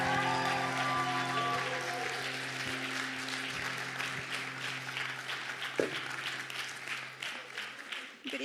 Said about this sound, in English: give a huge Rock Church round of applause for Holly